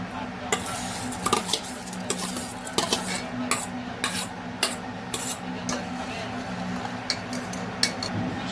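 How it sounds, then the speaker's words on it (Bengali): A spoon stirs rice into boiling sweet syrup in a pot while making payesh, with steady scraping and clinking against the pot over a low bubbling simmer and occasional sharper taps. "এবার আমি চালটা দিয়ে দিই, কারণ এই রসের মধ্যেই চালটা সিদ্ধ হবে।"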